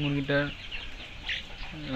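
Chickens cluck nearby in short bursts at the start and end, with faint background noise between.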